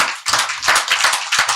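An audience applauds in greeting, a dense burst of many hands clapping together, loud and close, swelling and dipping briefly over a second and a half with no talk.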